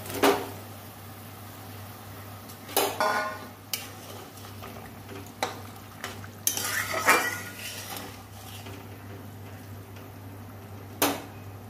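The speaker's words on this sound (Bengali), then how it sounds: "ঝোল ফুটে গেছে, মাছ ঢেঁড়স আলু দিয়ে দিচ্ছি।" Fish, okra and potato go into a boiling curry, with scattered metal spoon and pot clanks over a low steady hum, close and moderately loud, with quiet stretches between the clatters.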